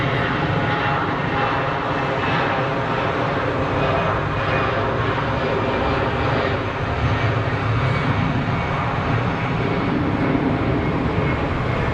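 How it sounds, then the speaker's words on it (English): A jet airliner at Geneva Airport gives off a loud, continuous engine roar that stays close and steady throughout, with broadband rumble and no clear talk. "Another aircraft on final, and then I'm guessing the Qatari Dreamliner is going to depart"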